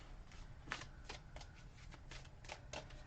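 Oracle cards being shuffled by hand, a quick run of soft riffling flutters and slaps, close but quiet, with no talk over it.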